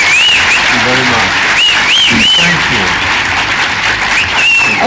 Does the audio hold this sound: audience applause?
yes